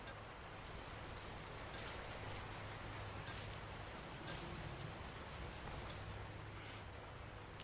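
Steady rain falling during a grape harvest, a dense even hiss of drops on leaves and surfaces, constant and fairly soft with no voices over it.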